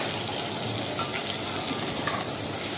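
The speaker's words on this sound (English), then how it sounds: "This is the time I am going to add the prawns. All the prawns and mix it." Prawns tossed into a hot frying pan and stirred for a Bengali dish, giving a steady, loud sizzle and crackle of frying throughout with faint scraping from the mixing.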